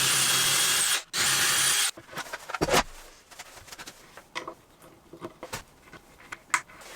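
A power drill with a 3/16 bit bores holes for upper cabinets in a van build, a sustained whine cut off after two seconds, followed by scattered knocks and handling sounds.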